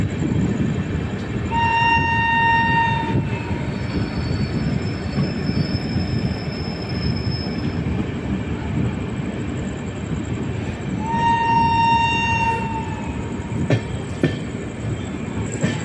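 A passing train hauled by a WAP-7 electric locomotive rumbles and clatters steadily while a bright two-tone whistle horn sounds in two bursts, with sharp clicks of the wheels near the end.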